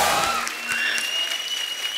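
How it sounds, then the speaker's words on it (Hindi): A studio audience at a televised Indian comedy show bursts into loud applause, and a dense wash of clapping fades slightly over two seconds without any talk. "जोरदार तालियां।"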